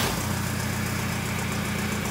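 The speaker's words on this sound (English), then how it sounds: "It's making some little turbo noises." A cheap Toyota Hilux diesel engine runs close by with a steady, loud rumble and rattle, faint turbo whistling above, no talking.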